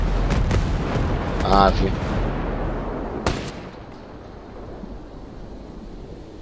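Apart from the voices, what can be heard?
gunfire in video game Ghost Recon Breakpoint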